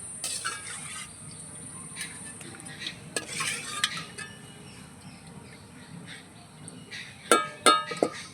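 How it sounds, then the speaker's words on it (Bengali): Jackfruit fritters fry in oil with a soft, continuous sizzle up close, joined by scattered stirring and sharp metal spoon clinks against a pan near the end. "আবারও কত সুন্দর করে ভাজা হয়ে গেছে কাঁঠালের বড়াগুলো"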